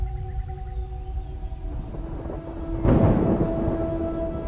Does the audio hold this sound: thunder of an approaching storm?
yes